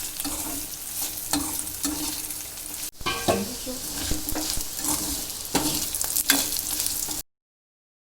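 Chicken chilli fry sizzles in a covered pan on the stove while being stirred, a steady loud frying hiss broken by scraping clanks of the utensil, ending abruptly in silence.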